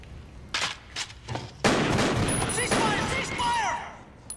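A burst of film-scene gunfire: several sharp shots at first, then a dense loud fusillade with ricochet-like whines and rattling, ending on a high ring.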